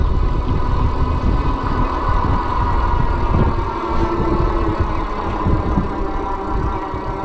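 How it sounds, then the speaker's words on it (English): An Aventon Aventure 3 ST electric fat tire bike runs with its hub motor humming at a fairly low, steady pitch, mixed with continuous wind and road rumble throughout. "I'd say the motor noise is about average"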